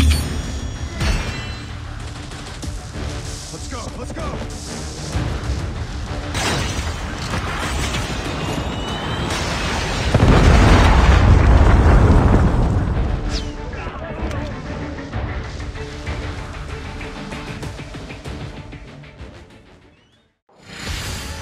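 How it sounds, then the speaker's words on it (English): Booming explosion from a Predator missile strike in a Call of Duty multiplayer match on the Shipment map, a loud roar swelling midway through dense gunfire and game voice callouts, then fading. "Predator missile inbound."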